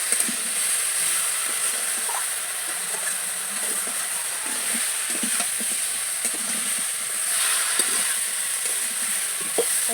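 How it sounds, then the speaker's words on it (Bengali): Vegetables (potatoes, yam, half a cauliflower, eggplant, beans) fry with salt and turmeric in a pan, giving a steady broad hiss with small scattered crackles, close and continuous without talking. "লবণ হলুদ দিয়ে সবজিকে ভালো করে কষিয়ে নেব।"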